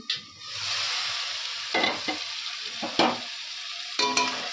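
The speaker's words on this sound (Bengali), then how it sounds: "চিংড়ি মাছ বেশি ভাজবো না।" Shrimp frying in a pan in a home kitchen, a soft sizzle broken by several distinct scraping stirs and clinks of a spatula, no speech.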